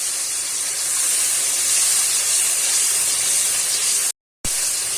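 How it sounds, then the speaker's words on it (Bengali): Tomato paste hitting hot oil in a pan with whole garam masala, dried red chillies and cumin, giving a loud, steady, close sizzling hiss with a brief silent gap near the end and no speech. "এবারে টমেটো পেস্টটা দিয়ে দেবো।"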